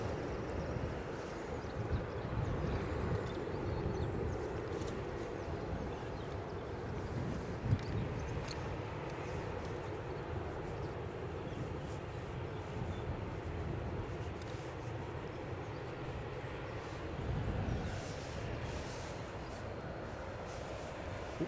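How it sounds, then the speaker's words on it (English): An aircraft on final approach at Edinburgh Airport makes a steady distant roar that holds throughout and swells slightly near the end, heard outdoors with no talk. "there is an aircraft on finals"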